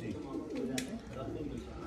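Soft, low cooing of racing pigeons rolls on in a steady murmur nearby, with faint background voices and a brief rustle midway.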